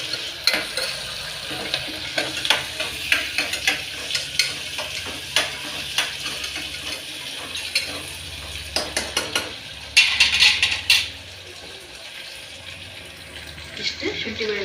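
Ginger garlic paste frying in a home kitchen pan, a close sizzle with frequent scraping and clinking of a spoon stirring, a short run of tap water partway, and a voice speaking briefly.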